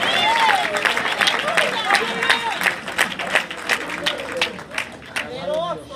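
A church congregation applauds, a dense wash of clapping mixed with scattered shouts and crowd voices, loud and sustained throughout.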